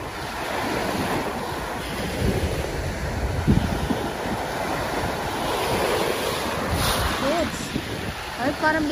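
Ocean waves rolling onto the Manila Bay shore, a continuous close wash of surf mixed with gusty wind buffeting the microphone, with a voice briefly audible over it.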